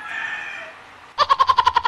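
A loud, close bird call sounds: a drawn-out cry followed by a rapid string of about eight pulsing clucks, like a rooster crowing nearby.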